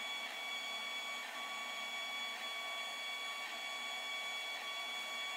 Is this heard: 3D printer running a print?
yes